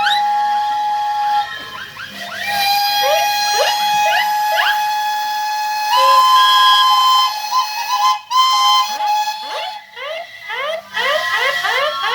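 A loud, shrill steam traction engine whistle blows in long sustained blasts with wavering pitch, broken by a few brief pauses and restarts, at an outdoor steam show arena.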